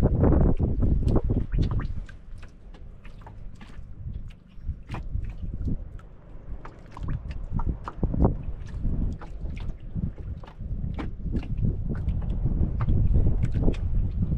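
Steady wind buffets the microphone in low rumbling gusts, with scattered knocks and clatter throughout, fairly loud and continuous.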